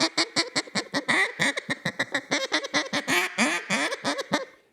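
A duck call mimics an excited, contented duck feeding, rattling out a long fast string of clipped raspy chuckles and quacks, loud and close, for several seconds with no talking.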